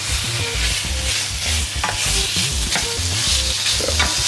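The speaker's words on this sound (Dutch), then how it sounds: "even die kip bakken" Chicken sizzling and frying in a pan while being stirred, with bright continuous crackle and intermittent scraping knocks of a utensil, close and fairly loud.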